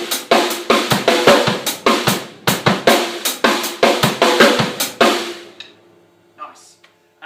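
Drum kit groove with steady hi-hat, snare backbeat and an extra bass drum hit slipped in as the right hand lifts, played close and loud for about five seconds before stopping, with a couple of faint taps afterward.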